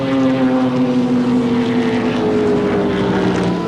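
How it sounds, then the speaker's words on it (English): A little Mazda sports sedan racing at Sandown in a 1988 sports sedan series round, a loud sustained engine drone passing close with a slowly falling pitch. "Little Mazda going through again."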